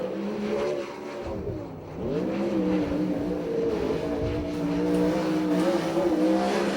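A USAC/CRA sprint car, number 56, runs its first lap at Ventura, California, its engine droning loud and steady with rising and falling pitch as it circles, a brief dip as it lifts through a turn.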